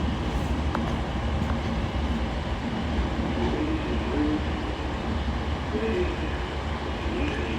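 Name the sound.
Avanti West Coast train departing Carlisle station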